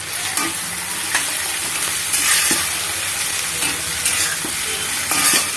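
Three cut tomatoes frying in a pan with onions for a restaurant-style chicken fry, a steady close sizzle broken by several scrapes and stirs of a utensil, with no talking.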